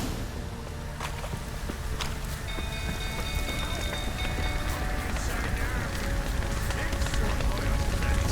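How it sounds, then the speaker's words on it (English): Heavy rain in The Witcher 3 pours as a dense, steady wash of drops on surfaces, with faint movement and footstep-like patter mixed in and a few brief tonal game sounds over the constant downpour. "Looks like rain."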